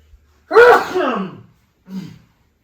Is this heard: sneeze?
yes